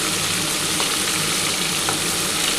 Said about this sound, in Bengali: এই তেলের মধ্যেই আমি আলুগুলো দিয়ে দেবো। আলুগুলো একটু লাল করে যখন ভাজা হবে